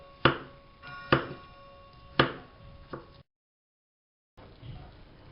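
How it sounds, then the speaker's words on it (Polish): A knife dices peeled fresh mushrooms on a cutting board for pierogi filling: four sharp, close chops spaced about a second apart, a short silent break, then faint handling sounds. "Zwyczajnie je po prostu kroję w taką kostkę, tak żeby były wyczuwalne w smaku."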